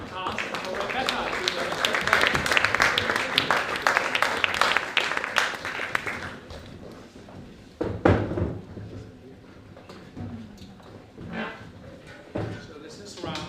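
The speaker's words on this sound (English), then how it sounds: "another round of applause, I think, for the cast and for Rebekah." Theatre audience at the PEN World Voices festival applauds the cast and director of a play reading: several seconds of loud, dense clapping that fades out, followed by a person speaking with a few scattered thumps.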